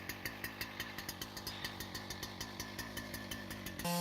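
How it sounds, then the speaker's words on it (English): A Husqvarna 3120 XP chainsaw, a big 8.4-horsepower saw, runs loud and steady as it cuts through tree wood, its engine pulsing in a fast, even rhythm and ending abruptly. "The awe-striking Husqvarna 3120 XP laughs at tough jobs,"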